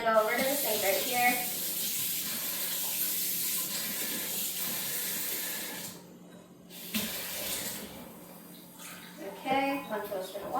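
A kitchen sink tap runs with a steady hiss of water while people talk over it during baking. The flow dips and briefly stops midway, then resumes.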